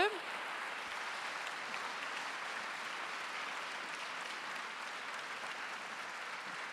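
Audience applause fills a French award ceremony marking the 20th anniversary of the Prix Liliane Bettencourt pour l'Intelligence de la Main, steady and dense clapping from a large hall, sustained evenly throughout without a break.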